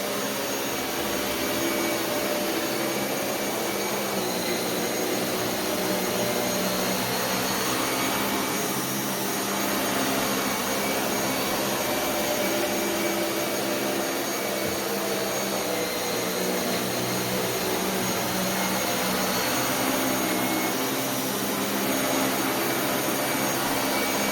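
A Dyson Cinetic Big Ball UP14 upright vacuum cleaner runs continuously with a loud, steady high-pitched whine and motor hum, no voices.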